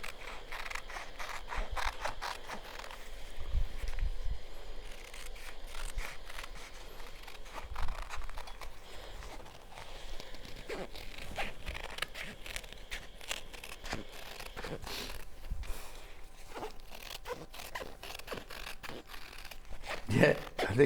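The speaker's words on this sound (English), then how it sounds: "I'm going to cut it out on the pencil line." Scissors in need of oil snip steadily through fabric along a pencil line, a long run of crisp, close blade cuts with a faint creak, while people talk quietly underneath.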